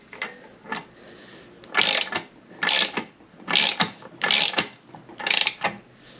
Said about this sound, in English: I'm going to go ahead and tighten that right there.